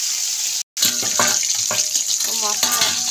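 Four pieces of Bhola fish fry in hot oil with a steady, close hiss and crackle, broken by a brief gap of silence, while a voice speaks at intervals over the sizzle.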